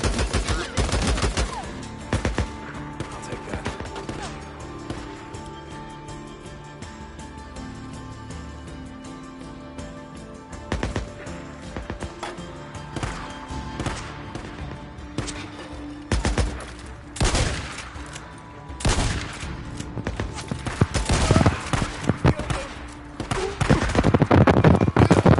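Rapid gunfire in the video game Days Gone rattles almost continuously, with dense bursts and sharp cracks over steady background game noise, growing heavier and louder toward the end.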